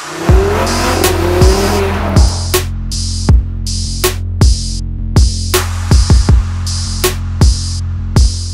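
A 2018 Audi TT RS sports car is driven hard, with engine roar, rapid upshifts and sharp pops or cracks between gear changes, loud and close, recurring in quick bursts.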